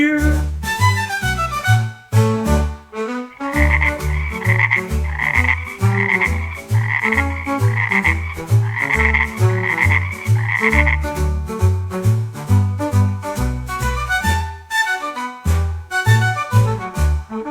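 Frogs croak in loud, rhythmic bursts woven through an upbeat children's song, with steady bouncy backing music throughout and no speech.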